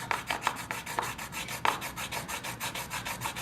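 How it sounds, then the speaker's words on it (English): A piece of silver is rubbed back and forth against a touchstone for testing, giving a quiet, rhythmic rasping scrape with regular strokes and a few sharper scratches, close and alone. "you can even take your stone and rub it like this to get a good result"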